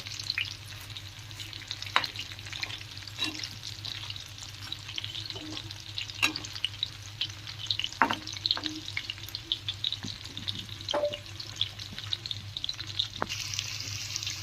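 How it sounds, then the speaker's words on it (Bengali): Bengaluru-style chicken kebabs fry in oil with curry leaves: a steady close sizzle runs throughout, broken by scattered clicks and scrapes of stirring, and no one speaks. "আমার কাবাবগুলি ভাজা হয়ে গেছে, ওপর থেকে আবারও কারি পাতা ছড়িয়ে দিলাম"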